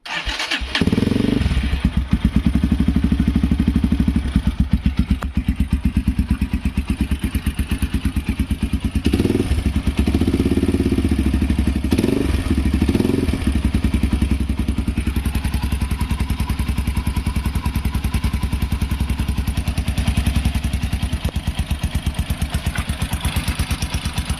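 A Forte CBA 250 motorcycle with a tuned exhaust starts after a brief crank, then idles loud and close with a steady throbbing rumble, a few revs and clattering thumps partway through.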